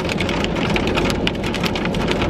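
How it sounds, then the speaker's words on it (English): Chunks of ice mixed with rain pelt down outside a house in a winter storm, a dense, continuous clattering patter heard steadily throughout without any speech. "Guys, it's chunks of ice raining."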